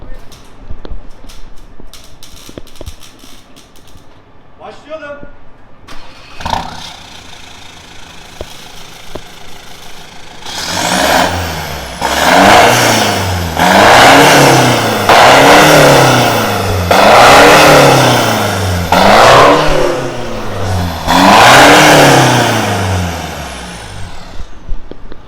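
Quiet idling and faint talk at first, then a loud Ford Ranger 2.2 diesel with a remote-controlled valved Varex exhaust revs again and again in rising and falling surges, close by.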